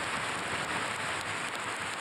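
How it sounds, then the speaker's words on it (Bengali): Heavy rain falls in a steady, dense hiss with no break, loud and even throughout. "এত বৃষ্টি হচ্ছে।"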